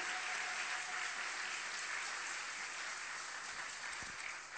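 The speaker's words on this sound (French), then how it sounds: "Est-ce qu'on peut l'acclamer?" A church congregation at a French-language worship service applauds together, a steady, fairly soft wash of clapping that holds evenly for several seconds with no voices.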